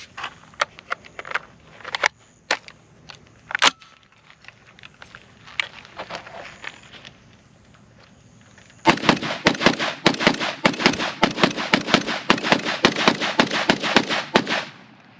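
Rifle shots from an IWI Tavor 7 bullpup chambered in .308, sharp cracks spaced out at first, then a dense run of rapid reports with faint movement sounds between them.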